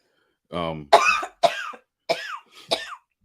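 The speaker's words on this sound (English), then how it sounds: "she's on here coughing a lot" A woman coughs in a short series of four or five rough, close bursts with brief pauses between them in a quiet room.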